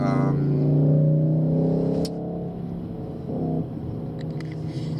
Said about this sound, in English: It's a Jaguar that sounds like that.